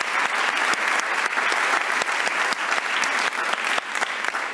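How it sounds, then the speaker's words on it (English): Audience applause greets a guest speaker introduced at a panel event, a dense, steady wash of clapping from a sizeable crowd that stays loud and even for the whole stretch with no speech over it. "Please give him a round of applause, Armando Fumagalli."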